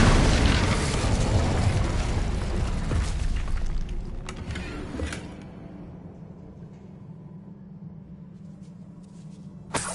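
A spell blasts through a barrier in Hogwarts Legacy, a loud booming explosion with crumbling debris that decays over several seconds into a low hum, followed by a short final thud.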